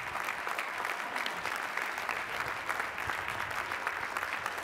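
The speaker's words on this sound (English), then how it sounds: "Please recognize the recipients of those degrees with our hearty congratulations and applause." Sustained, dense applause from a large audience at a university spring commencement for degree recipients, steady and even throughout, heard from within a big hall.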